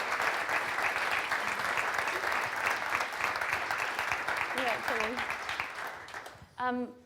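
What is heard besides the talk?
audience applause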